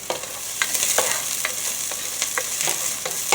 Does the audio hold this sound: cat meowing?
no